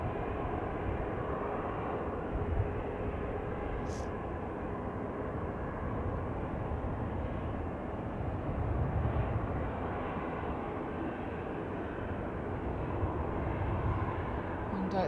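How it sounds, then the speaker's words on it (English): An EasyJet Airbus A320-200 airliner at Manchester Airport gives a steady, broad jet engine roar at moderate distance, holding constant throughout with little change in loudness. "This one's an EasyJet that's going to Athens. Airbus A320-200."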